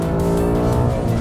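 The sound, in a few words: 2019 Ford Mustang GT PP2 engine revving on track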